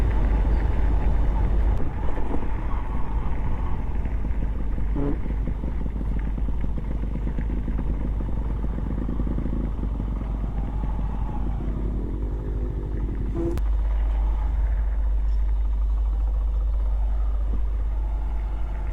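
An off-road vehicle with a badly worn, failing engine and no brakes labors over rough terrain toward a lake, a steady engine drone mixed with wind buffeting and occasional knocks and clunks over about nineteen seconds.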